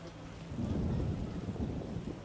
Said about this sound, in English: It's just rain.